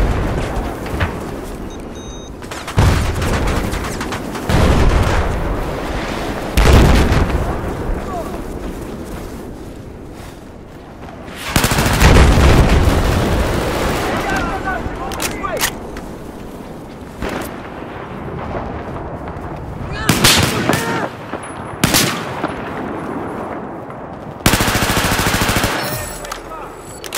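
Near-constant heavy gunfire and explosions from Battlefield 4 roar loud and close for the whole stretch, with rapid automatic bursts, booming blasts and brief lulls, and a voice occasionally in the mix.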